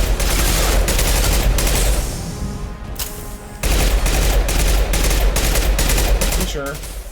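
Rapid bursts of gunfire in the video game Mass Effect 2, loud repeated volleys separated by a brief lull, with some speech mixed in.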